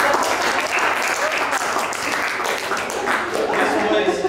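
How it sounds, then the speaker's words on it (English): An audience at a club meeting gives a round of applause, dense continuous clapping with a few voices mixed in throughout. "give Jess a round of applause"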